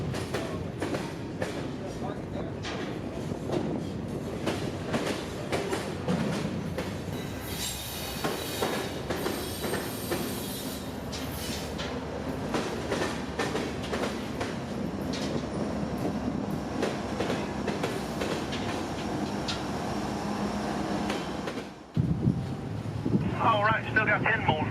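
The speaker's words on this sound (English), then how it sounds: "WO86 stopped and began backing up his train into Plant City siding" A long freight train creaks and rumbles slowly as it backs into a siding at Plant City, Florida, with continuous wheel and car noise and wind buffeting the microphone, fairly close, ending in a brief drop and scrape.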